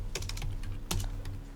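Typing on a computer keyboard while building a web design wireframe, a quick run of close, crisp key clicks in two short bursts over a low steady hum.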